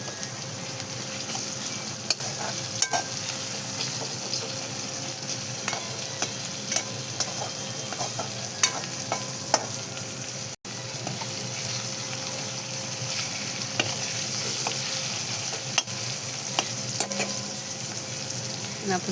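Onion and tomato fry in oil with curry leaves for a sprouted moth bean dish, a continuous close sizzle with frequent small spatters and stirring clicks throughout, no voices.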